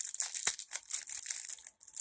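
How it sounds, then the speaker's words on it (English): Plastic packaging crinkles as a figure is unwrapped, a close, irregular series of sharp crackling rustles with one brief louder crunch. "Sorry for the crinkle."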